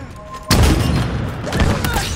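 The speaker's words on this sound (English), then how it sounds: "In a hail of gunfire." A sudden loud burst of gunfire at half a second, followed by sustained rattling shots and booms from Halo Infinite online multiplayer on Xbox Series S, with faint voice underneath.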